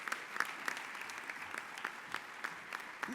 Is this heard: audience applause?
yes